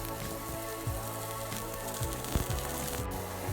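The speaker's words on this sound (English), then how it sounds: "And we're gonna add in our mushrooms. And we will also add in the shallot that we cut up" Mushrooms and chopped shallot sizzle in olive oil in a pan, a continuous crackling hiss with scattered spitting pops, close by and steady, with a faint musical backing underneath.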